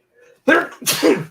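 A single loud, close sneeze triggered by construction dust in a basement, with a sharp intake followed by two explosive bursts, no talk.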